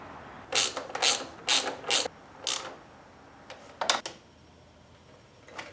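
A hand ratchet snugs down the battery bolt on a Honda CRF230F dirt bike in several short bursts of rapid clicking, close and crisp, then a pause and a couple more strokes.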